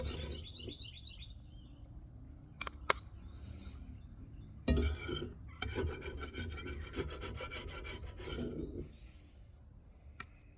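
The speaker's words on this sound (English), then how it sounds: "I'm scraping on cast iron with metal spatula" Metal spatula scraping across a cast iron pan, a series of rasping strokes and brief clanks, fairly quiet, with birds chirping faintly in the background.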